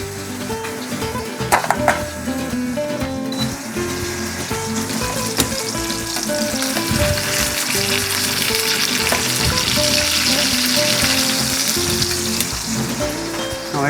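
Sugar heats in a pan as the base of a sweet and sour duck à l'orange sauce, giving a continuous close sizzle with scraping stirs and a few sharp clinks throughout.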